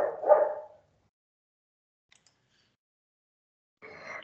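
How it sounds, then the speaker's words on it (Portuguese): A pet dog barks indoors in two short bursts, one right at the start and another near the end, with silence between them. "meu cachorro começou a latir"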